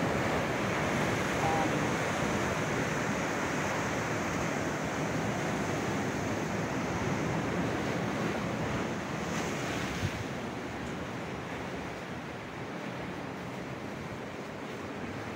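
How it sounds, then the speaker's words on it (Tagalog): Ocean surf washes steadily against a rocky shore along the Pangasinan coast, a continuous broad roar of breaking waves with wind buffeting the microphone and no voices. "Karagatan."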